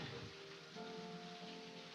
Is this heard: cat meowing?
no